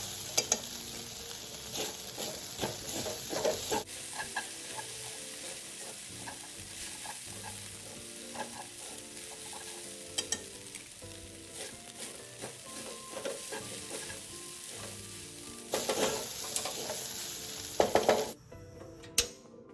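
Rice vermicelli stir-fried in a wok with fish sauce gives a continuous loud sizzle, with spatula scrapes and pan knocks breaking in now and then before it quiets at the end.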